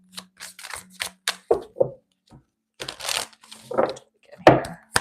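A tarot deck is shuffled in a few short bursts of riffling and card slaps, close and crisp, separated by brief pauses with faint murmuring.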